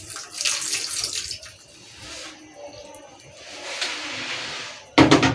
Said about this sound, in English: I'll add some water.